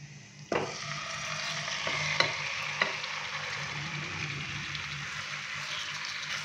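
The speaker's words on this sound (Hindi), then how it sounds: "पैन के अंदर कुकिंग ऑयल डालने के बाद अभी हम इसके अंदर चिकन डालेंगे" Chicken pieces hitting hot cooking oil in a pan make a sudden loud sizzle that stays steady and close, with a few sharp clinks of a utensil scattered through it and no talk.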